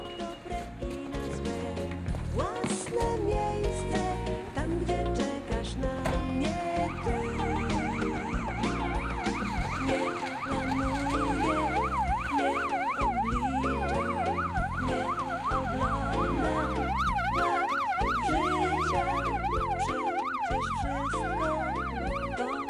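An ambulance siren wails up and down steadily, loud and continuous, layered over a dense, busy background of other noise.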